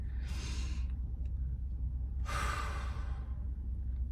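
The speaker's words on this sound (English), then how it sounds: "Don't forget to take a deep breath with me." A slow, deep breath drawn in and then let out, two soft airy swells of breathing close to the microphone with a quiet pause between, no talking.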